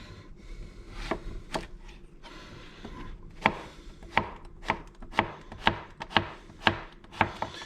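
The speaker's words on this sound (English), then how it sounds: "The last vegetable to prep is the zucchini, and I will probably again use about half of it." A knife chops zucchini on a cutting board while vegetables are prepped for vegan pasta primavera with olives and balsamic vinegar, giving a steady series of about a dozen crisp, close chops, sparse at first and then evenly spaced.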